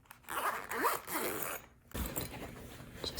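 A zip pocket on a travel supplies bag for stationery is zipped, a close, scratchy zipper rasp in two long pulls separated by a brief pause.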